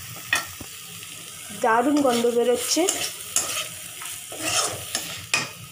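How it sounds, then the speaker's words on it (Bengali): Potatoes added to already-fried spices sizzle and are stirred in a pan with scraping strokes for aloor dom, while a person briefly speaks over the frying. "মশলাটা আমাদের ভাজা হয়ে গেছিলো, তার মধ্যে আমরা দিয়ে দিয়েছি আলুটা"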